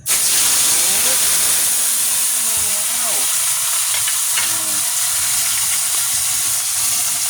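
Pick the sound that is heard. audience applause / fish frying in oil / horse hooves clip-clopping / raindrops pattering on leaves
fish frying in oil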